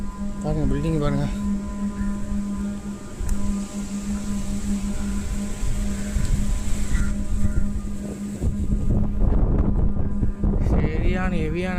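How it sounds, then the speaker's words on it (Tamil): Strong, steady wind roars across the microphone for the whole stretch near an abandoned bungalow in Rameswaram, with a constant low hum underneath and some rumbling gusts. "சரியான ஹெவியான காற்று."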